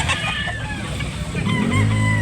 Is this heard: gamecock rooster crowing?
yes